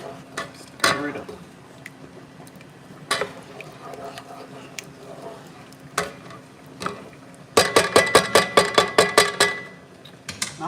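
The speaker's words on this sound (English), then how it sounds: "Stir it up." A utensil stirs seafood boil seasoning in a pot with scattered clinks and scrapes, then a rapid run of about ten metallic taps against the rim near the end, close and fairly loud.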